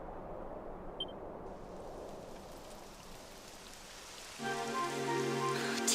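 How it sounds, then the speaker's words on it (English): Rain falls in the Dragon Quest XI role-playing game, a constant hiss of drops that continues throughout, joined near the end by a brighter tonal game sound layered over the downpour. "It would have to go and start raining."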